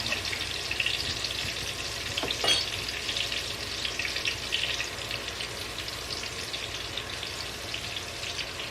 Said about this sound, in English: Just going to saute it long enough to get the garlic flavor through the butter.